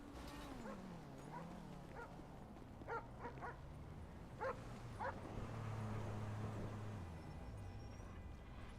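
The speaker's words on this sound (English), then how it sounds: "What was that police dog chasing people around for?" A police dog in a roleplay video game yips and barks in a few short, sharp bursts against a low rumbling background, with whimpering tones in between and an engine-like drone underneath.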